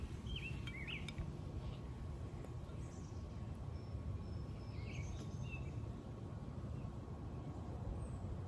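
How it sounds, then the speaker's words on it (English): Birds chirp faintly in the distance outdoors in nature, a few scattered tweets early and another brief cluster midway over a low, steady background hiss. "Do y'all hear them birds chirping, though?"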